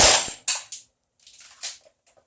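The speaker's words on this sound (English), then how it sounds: "Now we're going to go on a semi first, just to see if it has any more kick." A gas blowback S&T AR15-style airsoft rifle fires on semi-auto, giving one sharp close crack with a hissing tail, then a second shorter pop and faint mechanical clicks.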